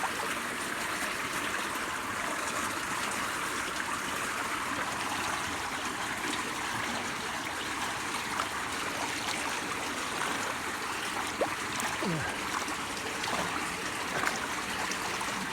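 Stream water flowing through a culvert near a pasture after sand was cleared, a steady rushing and trickling babble that continues evenly without talk.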